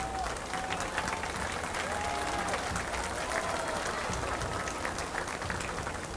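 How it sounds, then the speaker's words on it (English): Crowd applause at the Murphys Irish Days parade, a dense continuous wash of clapping from many people outdoors, steady and fairly loud throughout, with faint voices mixed in. "A big round of applause"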